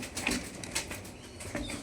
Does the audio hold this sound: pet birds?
yes